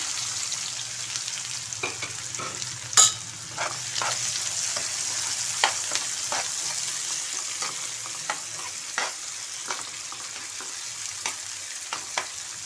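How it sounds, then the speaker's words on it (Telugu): Thinly sliced onions fry in a pan with cumin seeds, giving a steady, close sizzle throughout, broken by occasional stirring scrapes and light clicks of a utensil. "ఇగో ఆనియన్స్ బాగా వేగినాయండి"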